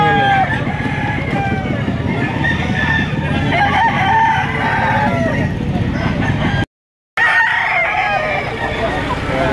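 Roosters and hens at a busy outdoor chicken market behind a shopping mall in Lipa, Batangas crow and cluck loudly and continuously amid crowd noise and talking, with a short dropout near the end.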